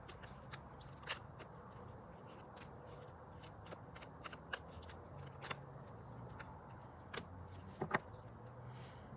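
A tarot card deck is shuffled quietly and continuously at close range, with many soft riffles and crisp card snaps scattered through the steady rustle, and no voices.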